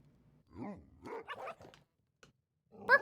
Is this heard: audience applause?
no